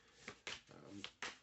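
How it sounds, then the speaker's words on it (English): Tarot cards being shuffled by hand, with four crisp, close riffling bursts spread evenly across a short stretch and a softer shuffle between them. "I'm shuffling up a few cards to see here."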